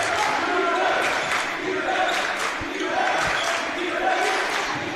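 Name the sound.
basketball game crowd cheering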